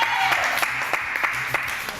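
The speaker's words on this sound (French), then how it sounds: "je vous demande d'applaudir très très fort pour son nouvel album" A French TV studio audience applauds a singer guest, a brief burst of scattered, uneven clapping with some voices mixed in.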